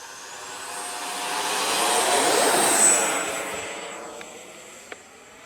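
An E-flite F-16 Falcon 80mm electric ducted-fan RC jet takes off, its high whine swelling to a loud peak as it passes close and then fading into the distance.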